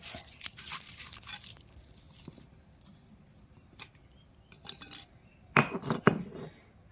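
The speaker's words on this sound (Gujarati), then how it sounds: "ચાલો હવે હું ચટણી વાટી દઉં" A traditional stone mortar grinds chutney by hand, giving scraping, knocking stone-on-stone strokes in irregular bursts, loud and close, with quieter gaps between.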